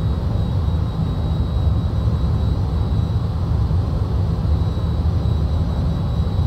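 Fokker F28 jet engines of a British Midland airliner in a flight simulator roar loud and steady as power comes up on approach, a dense unbroken drone with a faint high whine on top and no voices.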